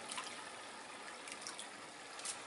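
Freshwater fish splashing in a home tank during cleaning, a faint continuous watery sloshing with a few brighter splashes and drips near the start, middle and end.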